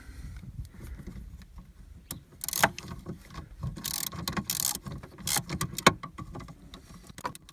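An 8 mm ratchet loosens the wiper motor bolts on a 1993 Chevy Lumina APV, giving close, irregular bursts of clicking and clattering metal against a low rumbling background.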